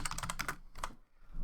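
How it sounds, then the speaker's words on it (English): Quick bursts of computer keyboard keystrokes come in uneven clusters, close and fairly quiet, then a short pause before a few more taps. "I'll have to type with my terrible typing skills"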